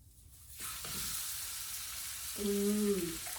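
Steak sizzles in sunflower oil on a grill, a steady bright hiss that starts as the meat goes down and swells slightly, with a brief tonal scrape near the end.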